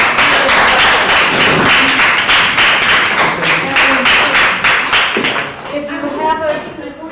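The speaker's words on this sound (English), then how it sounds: "another big round of applause for all of our folks" Dense clapping from a crowd, steady and loud for several seconds, thinning out near the end as a voice begins to speak.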